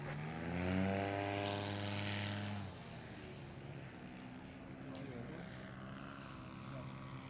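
A paramotor engine at full throttle during a slalom competition at the FAI World Paramotor Slalom Championships, a buzzing propeller drone that is loud at first and then fades to a steadier, fainter hum, with a voice speaking over it.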